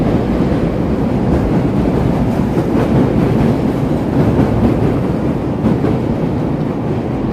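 Chicago 'L' Brown Line elevated train heading north over Wabash Avenue, a sustained loud rumble and rattle of wheels on the steel structure, with rapid clattering throughout and no talking.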